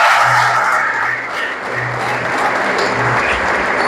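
Congregation applauding in a church, a dense continuous clatter of many hands clapping close by, steady and loud throughout.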